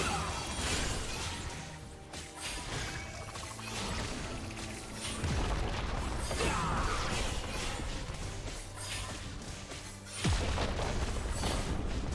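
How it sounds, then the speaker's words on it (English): A turret collapsing in League of Legends, heard as booming crashes and rumbling destruction effects layered with mechanical game sounds, loud and dense throughout with a sharp impact near the end. "Red Team's turret has been destroyed."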